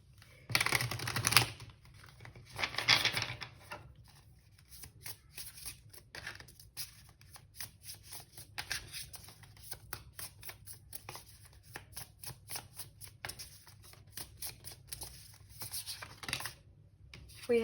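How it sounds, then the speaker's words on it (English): Tarot card shuffling up close: two loud riffling bursts early on, then a long run of rapid crisp clicks and flicks, fairly quiet, no voices. "Okay, let's just give this another shuffle."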